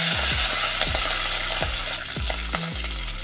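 Fenugreek seeds and curry leaves sizzle in hot oil while a spoon scrapes and stirs the pan in repeated strokes, close and continuous.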